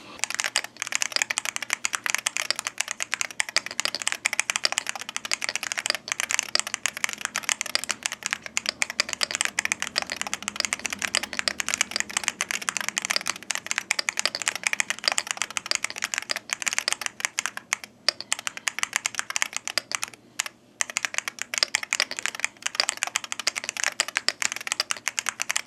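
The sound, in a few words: typing on keyboard with TTC King magnetic switches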